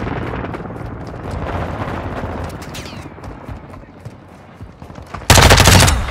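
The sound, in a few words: gunfire in Shoot House video game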